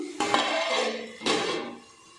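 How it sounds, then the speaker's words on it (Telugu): A lid set down on a pan of frying tomatoes, two close metallic clanks that ring out briefly over a low sizzle. "టమాటోస్ కొంచెం ఫ్రై అయ్యే వరకు మనం మూత వేసుకుందాం."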